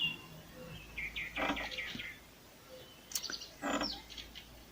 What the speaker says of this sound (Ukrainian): Зозулька кує знову.